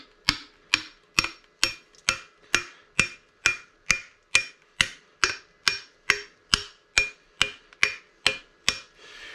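Wooden wedges tapped with a hammer into the head of a fire axe handle during restoration, a steady run of about twenty sharp, evenly spaced knocks, close and crisp, with no talking.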